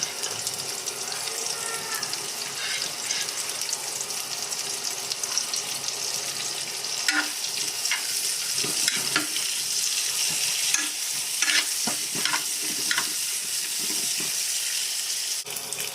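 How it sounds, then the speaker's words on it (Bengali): Sliced onions and chilies fry in hot oil, giving a steady bright sizzle throughout with a few clatters and scrapes of stirring, close and fairly loud with no talking. "এবার তেলটা গরম হয়ে গেছে, এই জন্য এরপরে আমি পেঁয়াজ আর মরিচ দিয়ে দিলাম।"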